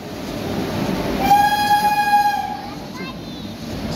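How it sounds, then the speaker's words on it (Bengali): A passing train at an Indian railway station sounds a long, clear two-tone horn blast for over a second over the steady rumble of the moving train, with a shorter faint toot afterward. "ট্রেন গাড়ি যাচ্ছে এবার"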